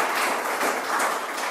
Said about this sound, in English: Can we give a round of applause for all the candidates and public servants who are here today?